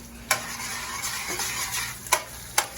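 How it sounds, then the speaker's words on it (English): Tomato paste sizzles in a pan with browned short ribs while a utensil stirs and scrapes, a soft steady frying hiss broken by several sharp close clinks against the pan. "Just want to put this tomato paste in here and stir it around real good."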